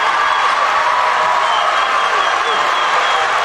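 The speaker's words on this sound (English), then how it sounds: "Hesston crowd starting to feel it." A crowd at a high school boys basketball game in Hesston roars and cheers in a steady, loud wash of noise with applause mixed in, sustained without breaks.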